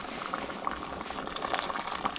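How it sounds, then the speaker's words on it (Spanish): Tomato zucchini soup boils gently in a pot, a steady close bubbling and popping that fills the whole stretch without talk. "está hirviendo un poco"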